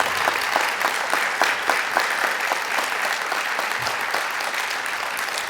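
An audience at a Hall of Fame induction ceremony for senior advocates gives steady, sustained applause, many hands clapping in a dense, even wash that carries on throughout without talk.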